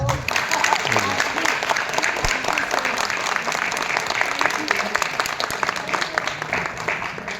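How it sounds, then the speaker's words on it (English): An audience at a retirement ceremony for a school headmistress breaks into sustained, dense applause that fills the room at steady loudness, with some voices faintly mixed in. "May I request everyone to honor our beloved Vaibhavi ma'am with a huge round of applause."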